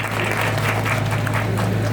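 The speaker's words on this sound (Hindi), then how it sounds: "जोरदार तालियां सब सम्मानित लोगों के लिए बजा दीजिए" Applause from an audience at an award ceremony honouring recipients in Dhampur, a steady dense wash of clapping held at even loudness throughout, with a low electrical hum running beneath it.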